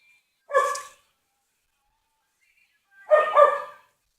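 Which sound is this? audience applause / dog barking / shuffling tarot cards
dog barking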